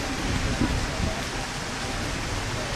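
Heavy downpour at an outdoor government event in Dumka, Jharkhand: steady, dense hiss of rain falling on surfaces, constant and fairly loud throughout with no distinct pauses.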